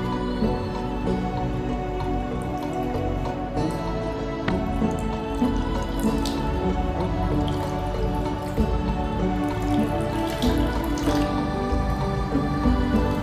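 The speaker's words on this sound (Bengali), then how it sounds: "সেগুলো সবগুলো দিয়েই ভালো করে আমি লাফিং বুদ্ধাগুলো ধুয়ে পরিষ্কার করে নেব" Water splashes and drips as small Laughing Buddha figurines are washed in a basin with Ganges water, flowers and rose water, a close, steady trickle and clatter lasting throughout, with one brief spoken word.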